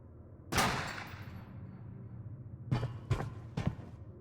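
Gunshots in the video game Void Rats: one sharp shot with a lingering decay, then after a pause three quick separate shots in a row, fairly close and clear with no talk.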